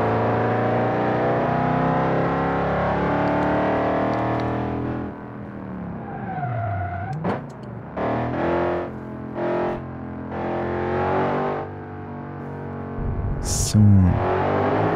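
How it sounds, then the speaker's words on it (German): An Audi R8 V8 in BeamNG revs loudly with a layered harmonic engine tone, dips and swoops through gear changes, then surges again with short bursts and a sharp tire squeal near the end. "das Auto ist zu laut"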